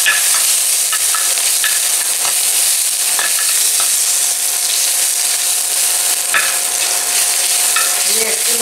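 Radhuni seeds, dried chili, ginger paste and bay leaf sizzle steadily in hot oil for uchha dal tempering, a dense continuous hiss with occasional sharp pops and faint stirring scrapes, close and loud throughout.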